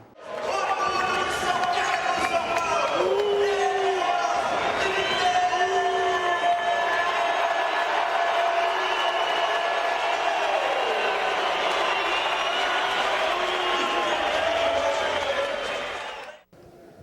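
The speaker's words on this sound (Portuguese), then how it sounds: "Vaia no Nenê, vamos ver." A basketball crowd at an NBA game boos the player Nenê. Many voices join in a loud, sustained jeer that holds for about sixteen seconds before cutting off abruptly, with shouts rising out of the mass of sound.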